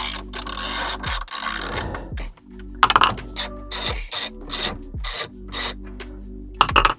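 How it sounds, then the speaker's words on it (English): A ratchet wrench clicks in rapid bursts while backing out two 10mm bolts under the dash of a Toyota Tundra, close and fairly loud, with short pauses between runs of ratcheting and occasional metallic rubs. "under here, we have these 2 bolts. They're 10mm. So let's go ahead and remove those."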